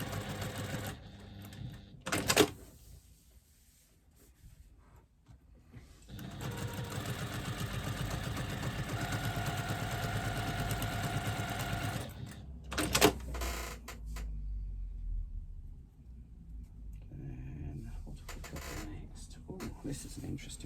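Sewing machine stitching a seam on a fabric pouch in batik cloth, a steady close mechanical hum running for several seconds, with short bursts and pauses around it and a person talking over parts of it.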